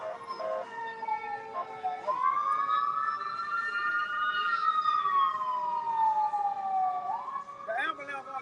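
An ambulance siren sweeps past outdoors during a live camp meeting, its wailing tone rising and falling over several seconds, loud and close, with a brief burst of talk at the edges.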